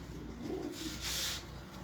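Sadhna pigeons belonging to a Bahawalpur breeder give a soft, low coo, close by and brief, over a steady background hiss.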